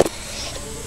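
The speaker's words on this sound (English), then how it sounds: "If I'm coughing a lot," A short cough during stock car racing gameplay, with a brief burst at the start and a sharper, louder one at the end, close to the microphone, and no talking.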